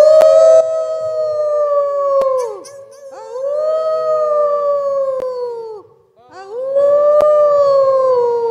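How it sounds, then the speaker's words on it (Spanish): Wolves howl in long, rising and falling wails, three loud sustained howls one after another with short gaps between them. "A lo lejos se oyen aullidos de lobos cada vez más"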